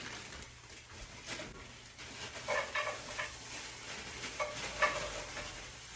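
Frozen California blend vegetables of carrots, broccoli and cauliflower sizzle and crackle steadily in a hot skillet, a continuous close frying hiss with a few small pops and stirring scrapes.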